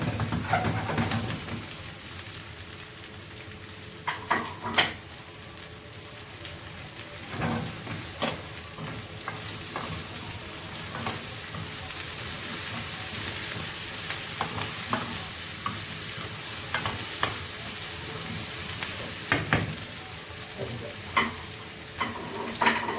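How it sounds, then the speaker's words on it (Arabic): Hot green chili peppers sizzle steadily in a clay tagine while being stirred, with close, irregular scraping clicks over a constant frying hiss and no talking. "هننزل بالفلفل ونقلب"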